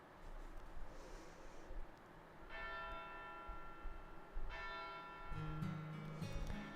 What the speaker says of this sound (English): Tintagil's Bell of Pilgrimage, which I've been hearing constantly for 16 years, rings in the distance.